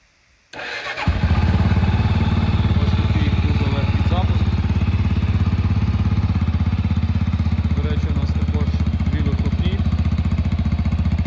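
A new 397 cc Jawa motorcycle engine cranks briefly, then fires and settles into a loud, steady, close-up idle that continues to the end without talk.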